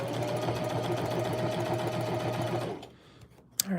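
A sewing machine with a 90 needle hemming thick jeans runs in a fast, steady, close mechanical whir for over two seconds, then stops, leaving a few soft handling noises.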